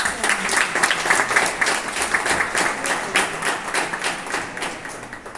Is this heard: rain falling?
no